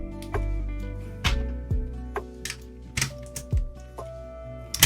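Keycaps being pried off an Anne Pro 2 keyboard, a series of sharp plastic clicks and snaps spaced irregularly, close and distinct against a quiet background.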